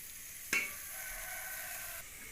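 Onions browning in a pan sizzle with a steady bright hiss, with one sharp clatter near the start, likely from stirring. No voices.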